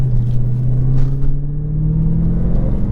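A deep, loud supercharged V8 engine of a 707hp Dodge Challenger Hellcat rumbles and revs steadily close by, a throaty drone rising slightly in pitch.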